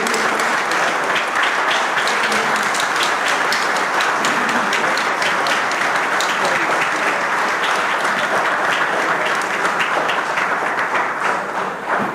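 Sustained applause fills a legislative assembly chamber, dense steady clapping from a large audience, loud and continuous throughout before tapering slightly at the end.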